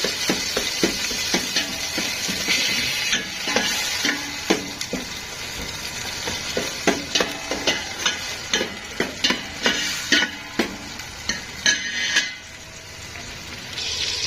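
Minced garlic frying in a pan for a Middle Eastern mallow (khobeiza) dish, giving a steady close sizzle broken by repeated sharp clicks and scrapes of a utensil stirring against the pan, with no talking.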